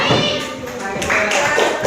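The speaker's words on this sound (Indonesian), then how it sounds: "Ya, benar, tepuk tangan buat Mas siapa?" A classroom bursts into applause for a student's correct answer, a short burst of clapping from the group mixed with children's voices talking over it.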